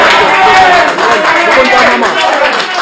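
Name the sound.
audience applause for Sorel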